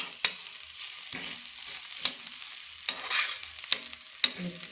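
Garlic sautéing in ghee for a Kathiyawadi lasaniyo rotlo, giving a soft steady sizzle broken by about five sharp spatula taps against the pan, close and fairly quiet, with no voices.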